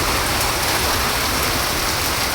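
Heavy rain pours down steadily in rural Bangladesh, a loud, unbroken dense hiss of drops striking surfaces with no pauses.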